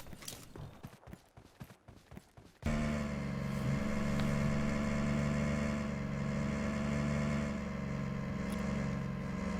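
Steady car engine drone while driving in the mobile battle royale game PUBG Mobile, a continuous loud hum that starts abruptly after a stretch of choppy clatter and holds alone at an even level.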